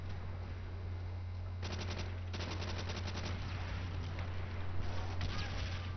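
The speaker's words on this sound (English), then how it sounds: "Luckily, the Tommy gun has pretty deep bullet penetration, even without deep impact." A Thompson submachine gun fires in short bursts of rapid shots in the Call of Duty: World at War multiplayer match on the Roundhouse map, faint under a steady low hum.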